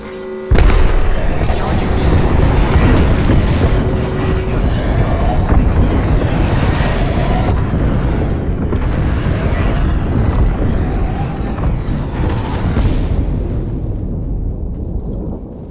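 A frag grenade explodes in a shooter video game, a loud, rumbling blast that sustains and slowly fades over many seconds while players talk over it.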